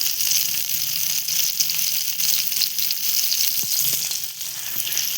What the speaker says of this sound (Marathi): मस्त अशी फ्राय होत आहेत